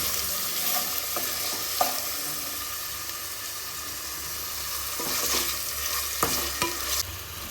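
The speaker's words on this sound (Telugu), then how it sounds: "సో నెక్స్ట్ టమాటా వేసుకొని దాన్ని కూడా కొంచెం మంచిగా మగ్గనివ్వాలి." Tomato stirred into frying masala for a paneer vegetable pulao, a steady close sizzle broken by several scraping stirs of the spoon, with no talk.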